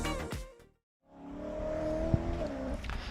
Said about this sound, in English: those Ferraris that I can still hear at the bottom of the hill